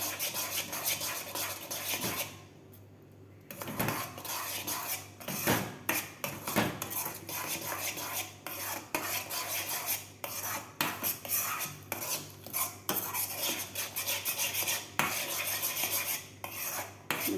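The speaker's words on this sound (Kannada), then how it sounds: "ನಿಧಾನವಾಗಿ ಸಣ್ಣ ಉರಿ ಇಟ್ಕೊಂಡು ಈ ಥರ ತಿರುಗಿಸ್ಕೊಳ್ಳಿ" Repeated scraping and clinking of a spoon stirring kesaribath with sugar over low heat in a metal pan, steady and close, with no talking.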